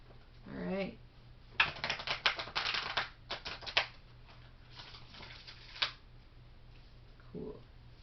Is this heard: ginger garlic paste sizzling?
no